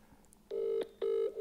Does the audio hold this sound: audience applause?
no